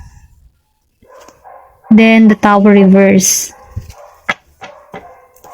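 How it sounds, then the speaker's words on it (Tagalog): A neighbour's dog barks nearby: a burst of loud, drawn-out, yowling barks in the middle, set between quieter stretches of someone talking. "Pasensya na sa ingay ng aso sa kapitbahay."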